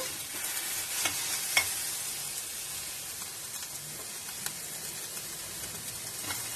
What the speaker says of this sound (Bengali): আলু করলাটা দেখো ভাজা ভাজা হয়ে গেছে